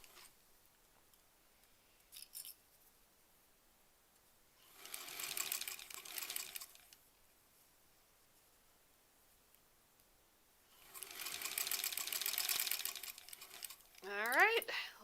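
A sewing machine stitching the last seam of a quilt block, two separate bursts of rapid mechanical chatter, close and moderately loud, with quiet pauses between and a brief squeak at the end.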